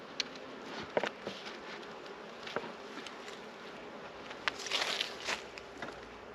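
Honey bees from a small hive buzz around a feeder close by in late October, a steady insect drone with occasional louder passes and faint rustling and tapping.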